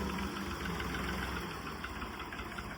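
A Tempo RX-35 35 HP tractor engine runs at a steady, throbbing idle with a knocking diesel rumble and vibration, close and continuous with no talking.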